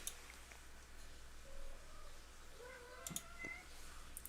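Cats meow a few times in a quiet indoor room, faint and fairly close, with short drawn-out cries spread across a few seconds and no talking.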